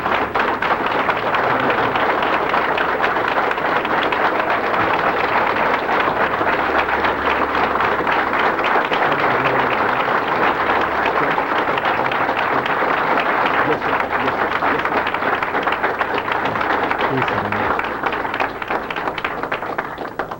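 A large audience breaks into sustained, dense applause welcoming a speaker, a loud unbroken roar of clapping that begins to fade near the end.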